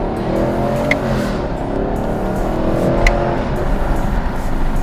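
A 2021 Chevrolet Camaro with the LT1 V8 roars hard under acceleration, with loud, close engine revs and sharp blips as it downshifts, continuous throughout with no talk.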